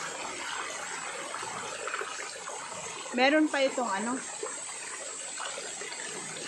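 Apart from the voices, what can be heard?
river water flowing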